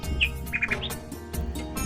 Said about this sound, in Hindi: पक्षियों के चहचहाने और कलरव करने की ये जो मधुर ध्वनि है मन को मोह लेने वाली है